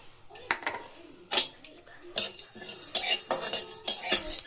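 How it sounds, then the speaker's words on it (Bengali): Carom seeds, fennel, cloves and peppercorns dry roasting in a wok, with repeated sharp metal scrapes and clinks of a spatula stirring the whole spices, close and fairly loud in short bursts. "এগুলোকে একটু শুকনো কড়াইয়ে আমি ভেজে নেব।"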